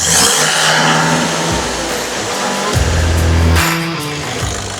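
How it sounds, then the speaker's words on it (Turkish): A car engine held at a steady 2500 rpm during a DPF cleaning machine procedure, heard as a close, continuous drone with low humming tones that shift and surge slightly. "Arabaya yine sabit 2500 devir gaz veriyoruz."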